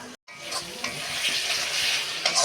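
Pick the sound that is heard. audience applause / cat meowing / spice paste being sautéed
spice paste being sautéed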